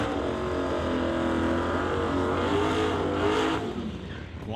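A 1963 Chevy Nova drag car rolls into the water box at a drag strip outlaw shootout, its engine roaring loud and sustained with strong harmonics before easing off at the end.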